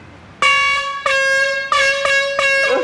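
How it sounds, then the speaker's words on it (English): Loud air horn on a reality TV house set blasts four times in a row, each tonal honk sustained with a brief gap before the next, signalling the start of a shift. "The air horn signals for the start of Lisa's shift."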